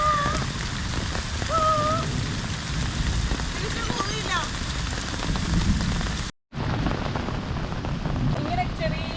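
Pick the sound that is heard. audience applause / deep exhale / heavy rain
heavy rain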